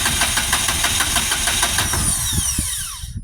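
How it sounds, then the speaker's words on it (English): A 2005 Acura TL Type S with a 3.5L engine cranks with a fast, even starter rhythm that stays loud and close, then winds down and stops near the end without catching. "it has that ghost start ignition system, so it continually cranks even after you let the key go"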